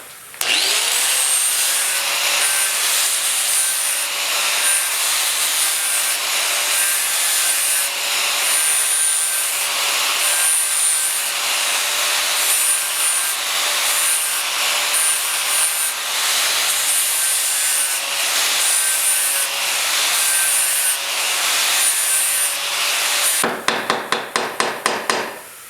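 Grinding or wire-wheeling galvanized coating off a metal part of a Delta wood lathe tailstock, ahead of welding: a loud, steady abrasive whir running nearly unbroken for about 23 seconds, then clattering as it stops.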